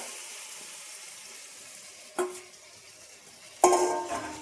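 Chicken chilli mixture dropped into hot oil, giving two sharp bursts of sizzling frying, the second louder and sustained, over a quiet background.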